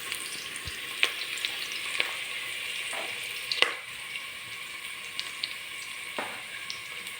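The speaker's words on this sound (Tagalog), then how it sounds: "Pagka nakita natin medyo golden brown na siya, pwede natin lagyan yung chicken." Chicken pieces sauté in a hot pan for tinolang manok, a steady frying sizzle with occasional sharp crackles and pops, close and moderately loud, with no talking.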